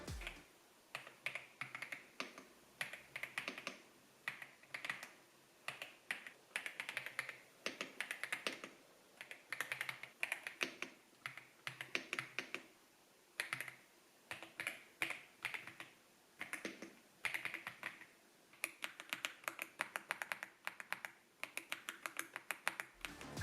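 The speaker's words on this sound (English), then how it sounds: "Listen to the sound the keys make." Someone types on a SOLAKAKA Ki99 Pro keyboard with linear switches and PBT keycaps, producing close, crisp clacks in quick, uneven bursts with short pauses between runs.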